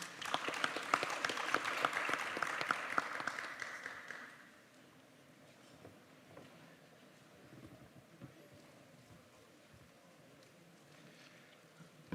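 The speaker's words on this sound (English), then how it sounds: "Please welcome Mr. Nan with a big round of applause." An audience at a regional symposium applauds, a brisk round of clapping for about four seconds that then drops away to quiet room hum.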